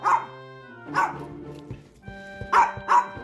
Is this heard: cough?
no